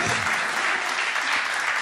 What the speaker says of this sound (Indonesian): Tepuk tangan lah, bagus sekali poin ini.